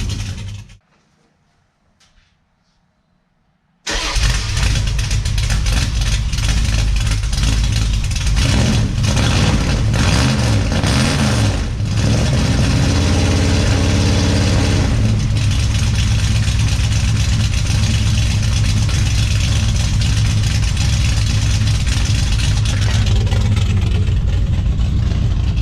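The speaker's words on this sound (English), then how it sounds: "It's still stone cold up here, so that's a real cold start." A Dodge Ramcharger with a new DIY Dynomax exhaust fires up from stone cold after a few quiet seconds, then settles into a loud, steady, rumbling idle with occasional slight revs, close to the tailpipe.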